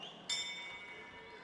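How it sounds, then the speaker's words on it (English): A single bright bell strike opening round one of a Mixed Fight Gala 19 bout, ringing sharply and then fading over arena noise. "There goes the bell, and we are underway here at Mixed Fight Gala 19"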